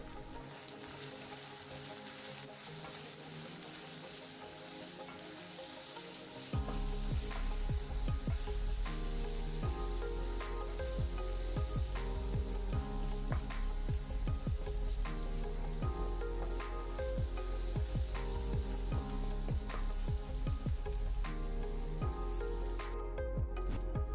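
Ground spices (chili powder, turmeric) stirred and frying in a pan for beef liver masala, a steady close sizzle with repeated scraping strokes of the spoon, no talk.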